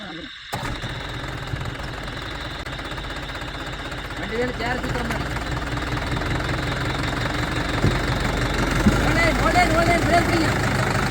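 A tractor stuck in mud chugs and knocks as its engine strains to pull free, the diesel rumble building louder over several seconds, with voices talking over it.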